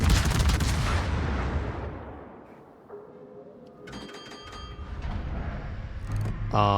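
Ship guns firing in World of Warships: a heavy, loud blast that rumbles and slowly fades, followed by quieter metallic clanks and ringing tones.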